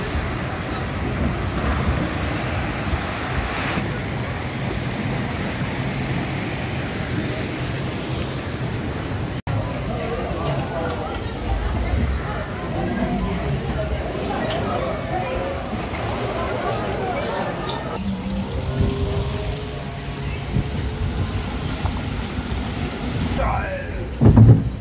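Rushing, splashing water and rumbling motion aboard the Dino Splash log flume at an amusement park, a continuous wash of noise with a sharp break partway through and voices mixed in.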